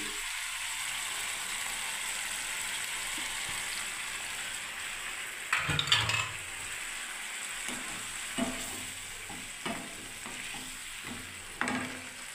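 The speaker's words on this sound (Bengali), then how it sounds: "দেখুন বাটি ধোয়া জলটা বন্ধুরা দিয়ে দিচ্ছি বন্ধুরা" Water used to rinse a bowl is poured into a pan of hot ground spices, setting off a burst of crackling sizzle over a constant frying hiss, followed by several stirring scrapes.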